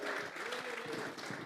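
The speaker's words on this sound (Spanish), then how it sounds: "Vamos a regalarle ofrenda de palmas al Dios de la gloria." Church congregation at a Sunday morning service claps together in sustained applause, a dense, even patter of many hands filling the room.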